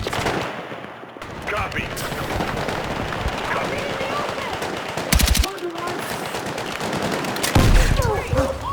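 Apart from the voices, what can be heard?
gunfire in Battlefield 6 video game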